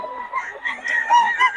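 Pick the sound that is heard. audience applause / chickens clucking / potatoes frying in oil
chickens clucking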